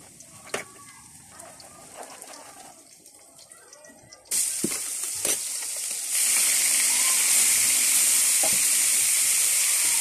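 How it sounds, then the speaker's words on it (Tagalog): Cooking oil, then onions, hit a hot pan for a dinner sauté. Scattered clicks and taps lead into a sudden loud sizzle that jumps again and settles into a steady, bright crackling hiss. "Lalagyan na po natin yung sibuyas. Gigisahin po natin. Unahin natin yung mantika."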